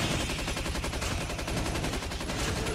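Sustained rapid automatic fire from an RPD light machine gun in the Call of Duty Mobile zombies mode, a steady dense burst of shots running loud and continuous for the whole stretch with no pauses.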